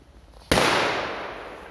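A single C4 firecracker goes off with one sharp, loud bang after a quiet moment, its blast trailing off into a slowly fading rumble outdoors.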